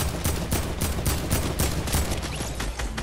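Rapid bursts of gunfire in the video game Fortnite, a fast, continuous string of loud shots with barely a pause across the whole moment.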